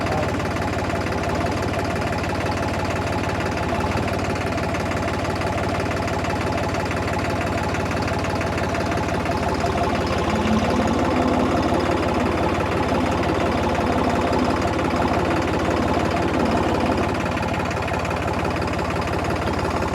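A New Holland 3630 4x4 diesel tractor engine idles steadily and loudly throughout, a continuous low chugging rumble with a slight knocking rhythm.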